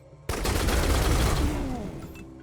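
A heavy burst of big-gun fire erupts suddenly in the video game Wasteland 3 and rolls off into a long, booming decay.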